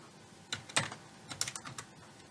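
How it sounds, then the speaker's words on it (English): Keys tapped in short irregular bursts on a computer keyboard while a password is entered at a networking console, close and fairly quiet, with brief pauses between clusters of strokes. "now we have to type in this password"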